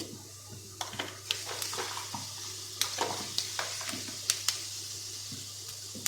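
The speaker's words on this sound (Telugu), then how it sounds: "నూనె కాగిన తర్వాత ఆవాలు, కొద్దిగా మెంతులు" Mustard and fenugreek seeds go into hot oil in a pan and sizzle with a steady hiss. Sharp pops and crackles rise above it, heard close at moderate level.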